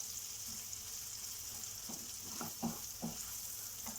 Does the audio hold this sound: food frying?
yes